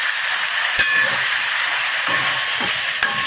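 Steady loud sizzling hiss of hen meat frying in a hot pan for adobo, with a few faint clinks and pops over the constant crackle.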